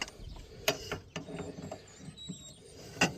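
A wrench levered with a jack handle strains on a wheel bearing bolt of a 2006 MK5 Jetta, giving a few faint, scattered mechanical clicks and creaks in a quiet garage.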